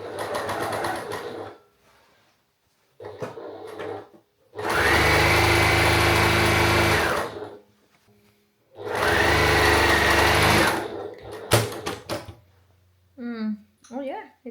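A sewing machine stitches a quilted vest lining in two long, steady motor bursts, separated by pauses filled with talking and brief handling clicks.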